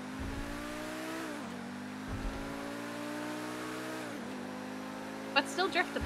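A car drifting in GTA 5 roleplay, its engine holding a steady revving drone that dips and rises twice as it slides, with faint background chatter and a short sharp clatter near the end.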